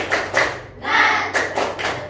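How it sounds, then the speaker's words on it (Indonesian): A group of schoolchildren in a classroom does a quick spirit-clap chant, a few sharp rhythmic claps with a short pause in the middle, close and moderately loud. "Tepuk semangat."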